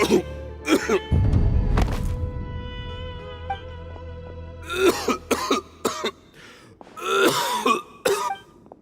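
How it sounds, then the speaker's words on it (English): A male character in Genshin Impact coughs and clears his throat repeatedly in rough, hacking bursts, with a heavy thud and a low rumble in between. "Why is he coughing so much?"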